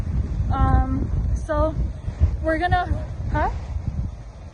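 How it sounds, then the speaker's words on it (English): Strong wind on a rocky beach in San Juan, Puerto Rico, with riptides offshore, rumbles steadily and loudly into the microphone beneath a voice talking throughout. "It's super windy."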